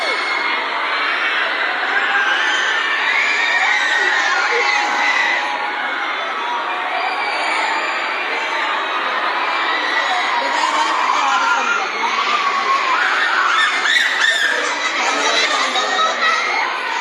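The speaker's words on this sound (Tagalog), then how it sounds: "Sigawan na, oh. Sigawan." Crowd of children shouting, whooping and cheering together after classes are suspended, a loud, continuous, dense roar of young voices with occasional laughter throughout.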